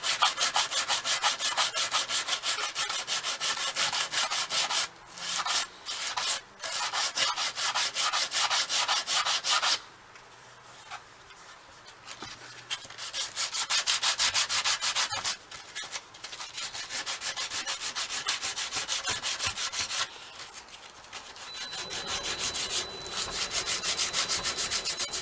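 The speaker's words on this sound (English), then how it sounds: "I'm going to sand this back" A wooden Les Paul style guitar body is sanded with long, steady, close rasping strokes that run almost without a break, dipping briefly between passes.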